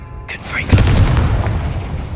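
A Confringo blasting spell explodes in Hogwarts Legacy, a deep booming burst landing right after a short spoken incantation, its low rumble rolling on and fading under the game's ambience.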